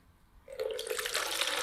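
Water splashes into a sink while Kodak Vision 3 film is rinsed to remove its remjet layer. After a quiet start, a steady, hissing stream begins and keeps running.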